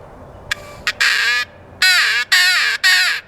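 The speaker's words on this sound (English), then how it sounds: "I have 2 crow calls in here. I don't think this one even works anymore." A hunting crow call blown by hand gives a series of loud, raspy caws, two short clipped ones and then four longer drawn-out calls, close and clear with no talking.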